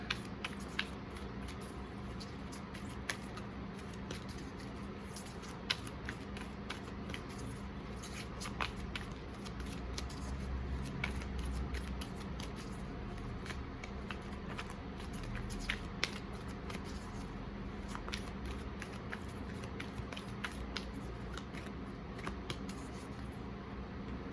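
Soft, continuous tarot card shuffling with quick riffling flicks repeating steadily throughout, close by and fairly quiet, with no talking.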